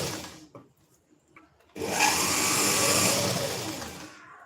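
Sewing machine stitching a prince-cut blouse, faint handling noises first, then a sudden steady loud whirring run that continues for a few seconds before fading, close by and without talk.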